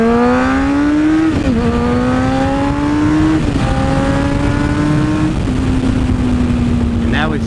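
A sport motorcycle engine, either a 2012 Yamaha FZ6R or a 2007 Honda CBR 600RR, screams at high RPM, climbing through gears with brief dips at each shift, loud and close with wind noise.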